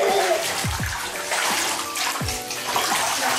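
Bathwater colored green by a Lush bath product sloshes and splashes in a tub, with continuous watery churning and a few deeper plops close by.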